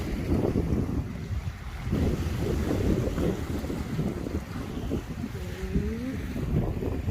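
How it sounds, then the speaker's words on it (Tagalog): Wind blows by open water in a winter nature park with no ice, gusting roughly across the microphone in a continuous rumbling roar and a faint whistle partway through. "Nice wind."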